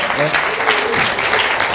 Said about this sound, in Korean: 뜨거운 박수로 마무리하도록 하겠습니다